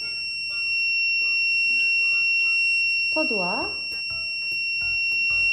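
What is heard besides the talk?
Zircon multi-scanner stud finder beeping on detecting metal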